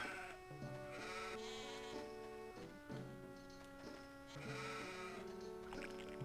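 Sheep in The Hobbit for Game Boy Advance bleat repeatedly over a melodic game music loop, with several overlapping bleats rising and falling at a moderate, even volume.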